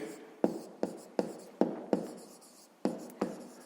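Pen or chalk writing out a square-perimeter maths exercise, heard as seven sharp tapping strokes spaced roughly every half second, each with a short scratchy tail, close and clear with no talk.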